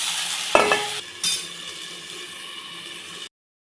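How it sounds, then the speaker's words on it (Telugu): Tomato chutney with turmeric and salt sizzles in a pan over a medium flame, with a spoon scraping and clinking against the pan in two short stirs before the sizzle cuts off. "3 టైమ్స్ కలుపుతూ ఉండాలండి."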